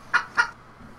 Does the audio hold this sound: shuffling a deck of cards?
no